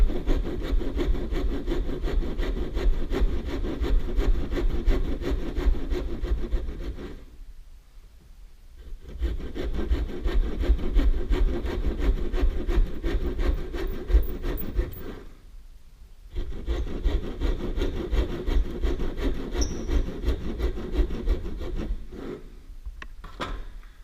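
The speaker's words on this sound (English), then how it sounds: "now we're going to put kerf cuts down through here" Hand saw cutting kerf cuts into wood for a dovetail joint, a steady close rasping of rapid back-and-forth strokes in three long bursts separated by short pauses.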